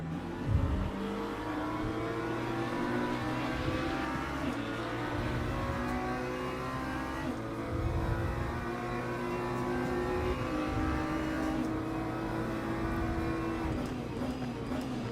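Race car engines drone and rev in the sim racing game Le Mans Ultimate as cars battle and overtake, a dense continuous layered engine roar with shifting pitches, steady and fairly quiet throughout.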